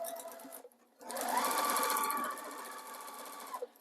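A sewing machine stitching around an appliqué flower on a baby quilt, with close, steady whirring bursts of rapid stitching separated by short pauses.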